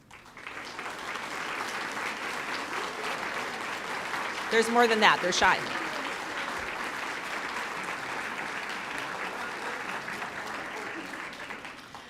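Sustained audience applause at a school district State of the District event as proud parents stand, steady clapping throughout with a brief burst of talk and cheering partway through.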